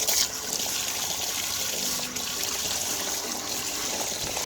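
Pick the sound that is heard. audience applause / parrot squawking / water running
water running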